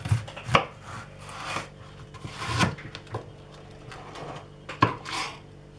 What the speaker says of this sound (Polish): zaczynamy od pokrojenia pora w kostkę